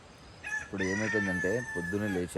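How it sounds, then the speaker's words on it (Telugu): A rooster crows repeatedly in the early morning at a Bhimashankar trek campsite, its drawn-out calls running close and clear beneath a person talking. "పక్కన కోడి అయితే చాలాసేపు నుంచి 3 గంటల నుంచి అడుస్తుంది నాకు."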